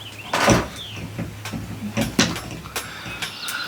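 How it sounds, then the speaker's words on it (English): Dogs playing rough indoors and banging into doors, producing a series of irregular thumps and rattling knocks, one heavy bang early on followed by lighter scattered impacts, fairly close. "They're hitting the doors, hitting the doors."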